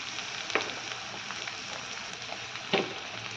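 Capsicum pieces sizzle steadily in a pan of chili chicken, with a soft, constant hiss. Two sharper knocks from the stirring spoon stand out.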